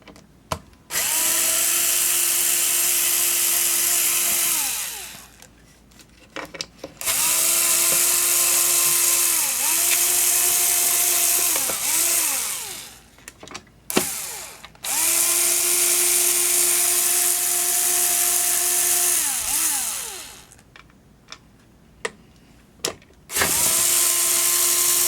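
A power tool whirs in long bursts while backing screws out of the steering gear of a Sega Outrun arcade cabinet, several loud sustained runs, each winding down, separated by brief pauses and small clicks.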